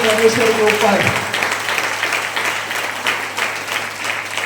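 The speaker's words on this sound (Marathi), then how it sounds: "आता मी सांगितलं टाळ्या मारा तेव्हा याने टाळ्या मारल्या" A congregation at a church service claps together in a dense burst of applause that keeps going, with a voice speaking over part of it.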